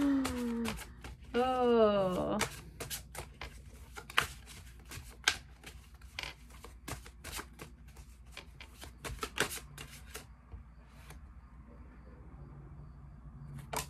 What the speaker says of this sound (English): Let us shuffle.